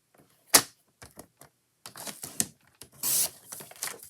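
Scissors cut a half sheet of magenta paper in half for a scrapbook layout, giving a few crisp snips and rustles spread over a few seconds in a quiet room.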